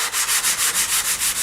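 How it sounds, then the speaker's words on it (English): Sanding sponge rubbed back and forth over dried wood filler in about nine quick, even strokes, a close, rhythmic scratchy swish. "I'm going to take just a sanding sponge and I'm going to smooth this out"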